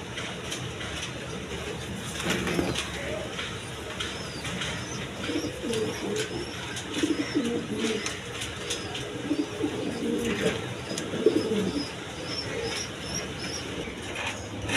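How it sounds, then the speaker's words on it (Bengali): A pair of King pigeons coo in low, steady rolling murmurs, with other birds chirping faintly and a distant rumble underneath. "দর্শক এইখানে এক পেয়ার কিং কবুতর আছে"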